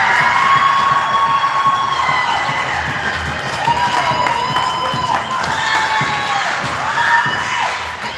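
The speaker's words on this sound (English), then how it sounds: "The cheering is Indiana as they're able to chip a puck into the net in the chaos" Crowd cheering and shouting at a youth hockey game as Indiana Elite scores a goal, a sustained loud wash of voices with whistles and shrieks rising and falling throughout.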